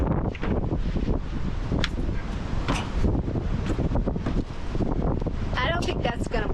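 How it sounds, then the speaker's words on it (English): Wind gusts strongly across the microphone at an RV park in Palm Springs, a loud, steady roar and buffeting that persists throughout, with someone talking underneath. "Here comes the wind."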